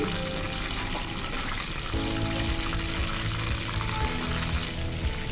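Onion and tomato frying in oil for a cauliflower chicken curry, a steady close sizzle that thickens after a brief pause, no talking over it.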